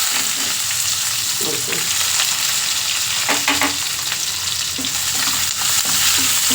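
Mustard seeds, cumin and onion fry in hot oil for upma, a loud continuous sizzle with occasional stirring scrapes and a brief spoken word.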